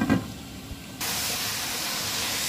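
Chicken liver frying in a covered pan, heard as a steady close hiss and sizzle that swells abruptly after a brief quieter moment and then holds evenly.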